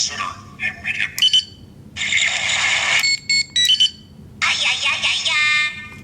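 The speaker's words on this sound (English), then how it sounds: "it plays that sound where the teleportation kind of fails" Power Rangers Legacy Communicator toy plays its failed-teleportation alarm, a shrill electronic warble in several bursts with brief electronic blips between them, loud and close.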